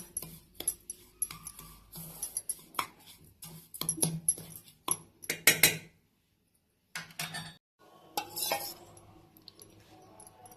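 A spoon stirring rava laddu mixture in a metal pan, making quick clinks and scraping taps in uneven bursts, close and quiet, with a brief pause of near silence midway.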